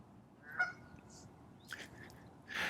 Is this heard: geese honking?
yes